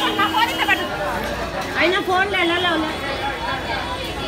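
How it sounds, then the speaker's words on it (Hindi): Dense crowd of devotees at Kashi Vishwanath temple in Varanasi after Mahashivratri, a continuous chatter and babble of many voices close around, with individual voices rising briefly out of the hubbub. "कितनी भीड़ आप देख सकते हैं भारी भीड़ दर्शनार्थियों की"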